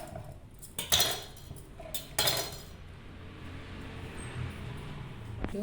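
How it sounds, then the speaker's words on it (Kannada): A knife works through a tangerine on a kitchen surface, giving two short bursts of cutting and clinking close by, then a low, quiet stretch of faint handling with one sharp tick near the end. "ಎಳಿಕಾಯಿ ಕಟ್ ಮಾಡ್ಕೊಳ್ಳೋಣ"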